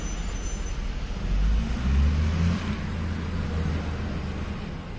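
Road traffic rumbles past on a dug-up road with a low engine drone swelling as vehicles pass close by, then settling into a steady background roar.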